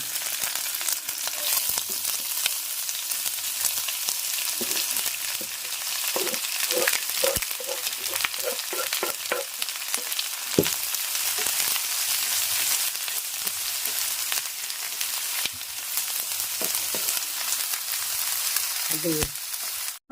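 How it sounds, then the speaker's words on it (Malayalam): Onions sauté in a pan over a village stove for a Kerala brinjal dish. A steady, bright frying hiss runs throughout, with occasional soft knocks and scrapes of stirring. "നമ്മൾ ഇതിനകത്ത് ഉള്ളി ഇട്ടൊന്ന് വരട്ടാൻ പോവാണ്"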